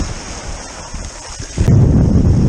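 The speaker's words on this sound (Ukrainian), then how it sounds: "Хвилі шумлять" Mediterranean Sea waves along the coast at San Remo, Italy, heard as a loud rushing wash that swells sharply about halfway through, with rumbling wind buffeting the microphone.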